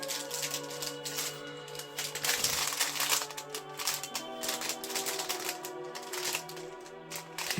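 Plastic Lego bags crinkle and rustle as they are torn open and handled, a close continuous crackling with uneven bursts throughout.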